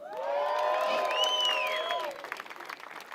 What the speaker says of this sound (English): please clap and cheer and get very excited